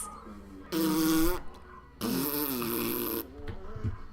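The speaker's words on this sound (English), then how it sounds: "The overdub farting is pretty outrageous." Two loud, drawn-out overdubbed fart sounds from the 1980s horror film Spookies, each lasting about a second, play close and alone with faint background noise between them.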